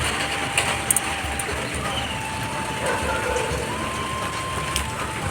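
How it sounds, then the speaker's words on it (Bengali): Heavy rain falls outside late at night, a steady broadband hiss with a faint continuous hum underneath and a few brief louder spatters, with no voices. "বাইরে দেখো কেমন বৃষ্টি হচ্ছে"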